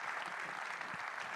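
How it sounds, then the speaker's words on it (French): An audience claps steadily and densely throughout at an award ceremony honoring perseverance and longevity, the applause filling the whole moment with no voices above it. "applaudissez-les bien fort"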